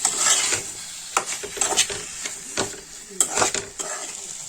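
Guava sabji fries with spices and salt while a utensil stirs and scrapes the pan in uneven strokes over a steady sizzle, close and clear, with no talking.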